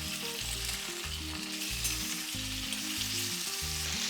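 Chopped tomatoes hit a pan of cashew gravy and sizzle in a steady, bright hiss that runs throughout, with sustained tonal music playing underneath.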